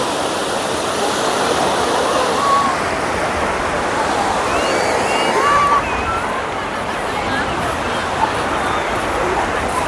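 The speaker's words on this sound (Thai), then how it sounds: "นี่ครับ ทะเล บรรยากาศ" Sea waves wash continuously onto a beach at Sattahip with a broad, steady rush of surf, while voices murmur faintly in the background.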